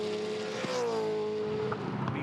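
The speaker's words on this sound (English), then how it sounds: "5 laps to go as they sweep on by into turn number 1." V8 touring cars sweep past on the track at Queensland Raceway. A sustained engine note rises and then falls as they go by, fairly close and unbroken, with no talk.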